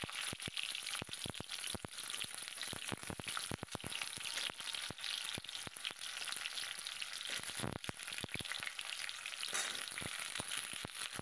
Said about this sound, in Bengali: পটলটাকে দিয়ে একটু নেড়ে নেব।